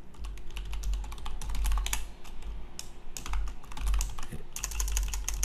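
Steady, fast typing on a computer keyboard while coding in the Sublime Text editor, including a press of the tab key; dense clicking keystrokes run continuously and close up, with no voices.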